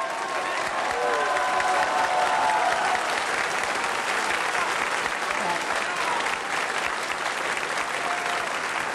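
A Hessian carnival (Fastnacht) audience in 1970–71 bursts into dense, steady applause, many hands clapping loudly and continuously with some crowd noise mixed in throughout.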